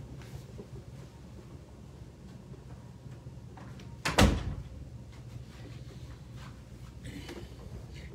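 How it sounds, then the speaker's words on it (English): A dressing room door swings shut with one firm thud midway through, close by against a quiet room hum, and no voices are heard. "Hold on, let me close this door."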